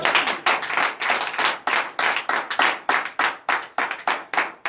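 A church congregation at morning prayer claps in acclamation, a dense, loud burst of many hands with a steady pulsing rhythm that keeps going, close and without any talk.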